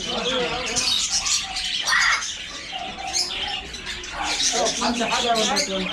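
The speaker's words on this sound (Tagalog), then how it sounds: "daming ibon kasi" Birds chirp and tweet in a busy outdoor scene in Abu Dhabi, with people talking and moving around nearby throughout.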